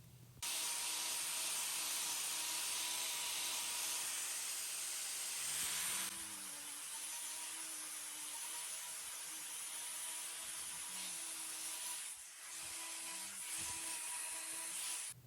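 A cow's hoof claw being trimmed, a close, steady hissing scrape of the blade shaving through hoof material, continuous with brief pauses and no talk.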